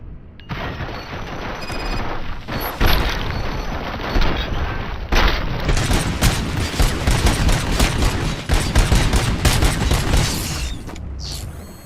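Volleys of gunfire from several weapons ring out in RoboCop: Rogue City, loud and dense. Rapid bursts and heavy booms pile on each other with no voices over them, and the barrage grows more intense partway through.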